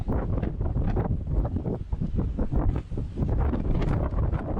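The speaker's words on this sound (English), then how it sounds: "God, I'm sick of this wind." Strong outdoor wind roars across a microphone in a workshop yard, a dense, continuous low buffeting with brief dips, loud and close throughout.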